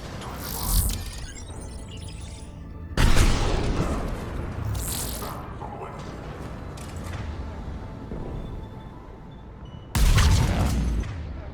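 Heavy cannon fire booms in the video game Mass Effect 3, Omega DLC: loud, sharp blasts at the start, around three seconds and near ten seconds, each trailing into a rumbling, crackling battle ambience with no talk.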